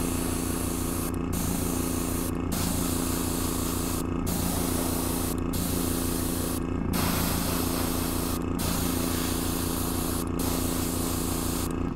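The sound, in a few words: spray paint being sprayed on model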